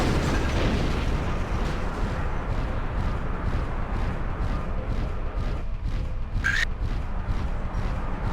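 Destroyed-target explosions in the MechWarrior 4 Vengeance video game, a continuous loud rumbling blast with crackling debris and a brief sharp burst near the end, no speech.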